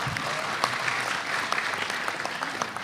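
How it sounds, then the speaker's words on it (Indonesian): Applause for the regent at an Indonesian religious gathering, a dense steady patter of many hands clapping from a large crowd, continuous and fairly loud throughout with no voices standing out. "Aplaus untuk Pak Bupati."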